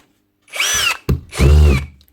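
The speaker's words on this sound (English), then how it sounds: "Hammer works, drill mode, she's still slipping." A Hikoki cordless drill with a slipping clutch whines in two short bursts, a brief rev then a longer run with a rough, grinding edge. It is close and loud with nothing else heard.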